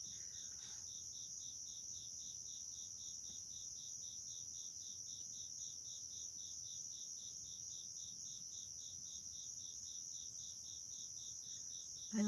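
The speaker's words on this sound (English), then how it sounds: "I love hearing those crickets in the background." Crickets chirp outside at night in a steady, continuous high trill throughout, soft and constant, with no other sounds standing out.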